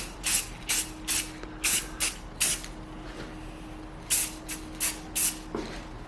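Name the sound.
spraying clear coat on motorcycle part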